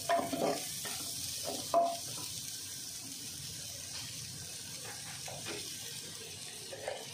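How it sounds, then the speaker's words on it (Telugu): Chicken masala and coriander powder for spicy chicken fried rice fry over high heat with a steady, close sizzle, broken by occasional stirring scrapes and clatter in the pan. "హైలోనే పెట్టి వేపుతూ ఉండాలండి ఇవన్నీ"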